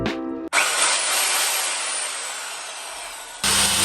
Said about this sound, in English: This is my first time ever using a circular saw and I was terrified.